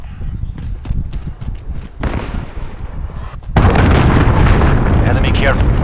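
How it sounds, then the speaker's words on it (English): Enemy cruise missile exploding in Call of Duty: after scattered gunfire and thumps, a heavy blast suddenly swells into a loud, sustained rumbling roar that fills the rest of the moment. "Enemy cruise missile."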